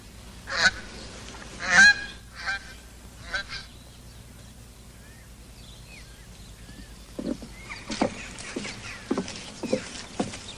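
Ducks call in loud, honking quacks, with strong bursts at first and a quieter stretch in the middle. A fresh run of clattering calls follows near the end, fairly close and with no talk.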